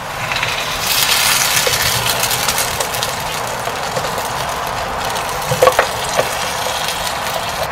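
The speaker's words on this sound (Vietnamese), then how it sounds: "Khi thịt bò chín rồi thì các bạn sẽ cho cái nước sốt cà chua vào." Beef and tomato sauce sizzling in a frying pan, a steady loud crackling hiss up close with a few brief clinks of stirring near the end, no talk.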